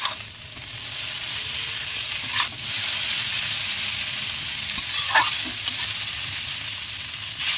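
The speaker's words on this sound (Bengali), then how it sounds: "চাউমিনটা দিয়ে দেবো দেখুন কত সুন্দর দুপুর হয়েছে এরকম করে বানালে একটাও জয়েন্ট হবে না এবারে চাউমিনটা নাড়িয়ে নেব" Egg chowmein noodles are stir-fried in a hot pan, a steady sizzling hiss broken by two louder scraping tosses of the spatula, close up with no talk.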